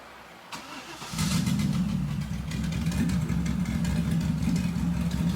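Turbo LS V8 in a G35 drift sedan cranks and fires, then settles into a loud, rumbling, slightly uneven idle, running rich, heard close up with no talking.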